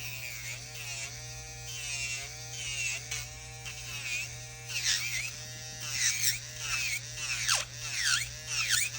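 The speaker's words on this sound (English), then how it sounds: "You can hear the drill getting caught, and that's in lumps." An electric nail drill smooths acrylic nails with a close, buzzing whine whose pitch dips and wavers as the bit catches on lumps, over a low steady hum.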